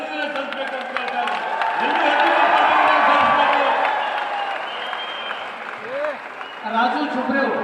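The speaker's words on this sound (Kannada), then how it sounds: "ತಾವೆಲ್ಲರೂ ದಯವಿಟ್ಟು ತಮ್ಮ ತಮ್ಮ ಸ್ಥಾನದಲ್ಲಿ ಎದ್ದು ನಿಂತು ಅವರಿಗೆ ಚಪ್ಪಾಳೆ ಮುಖಾಂತರ ಅಭಿನಂದನೆ ಸಲ್ಲಿಸಬೇಕಂತ ಹೇಳ್ತಾರೆ." A standing crowd at a Basavakalyan, Bidar gathering with Chief Minister Siddaramaiah and swamijis bursts into loud applause and cheering, rising to a peak then easing, while a voice talks over the clapping near the end.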